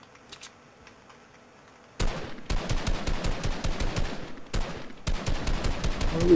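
Rapid automatic gunfire in the video game Fortnite, a loud sustained burst of dense shots that starts abruptly after quiet, pauses briefly, then resumes close up.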